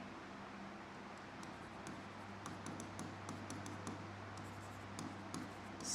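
A teacher writes a table of prices and quantities on a board during an economics class, quiet scratchy strokes and light taps in short clusters over a steady faint background hum.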